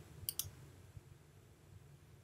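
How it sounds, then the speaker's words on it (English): Two quick, faint mouse clicks on a software search button, close together near the start, followed by quiet background hiss. "I'll click on Search to get started."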